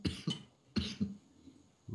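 Several harsh, abrupt coughs from one person, in short bursts with brief gaps between them, close and fairly loud, during a League of Legends voice chat.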